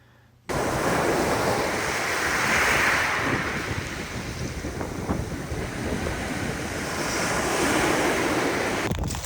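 Ocean surf washing onto a wild beach near Ucluelet on Canada's west coast: a continuous roar of breaking waves with buffeting wind noise.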